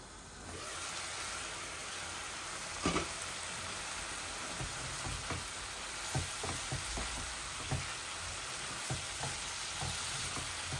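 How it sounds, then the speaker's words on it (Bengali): Carrot and courgette pieces frying in a pan, a constant hissing sizzle with soft intermittent clacks and scrapes of stirring throughout, no voices. "সবজিগুলো ভালো করে ভেজে নেই"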